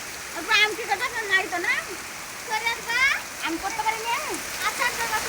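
Heavy storm rain keeps up a steady, dense hiss in the background while people talk loudly over it.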